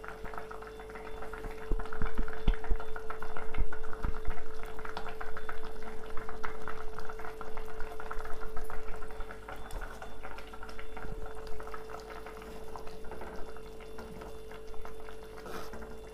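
A pot of water egg curry with masala bubbles on the stove in a steady, close simmer, with soft gurgling pops and occasional clinks of cookware.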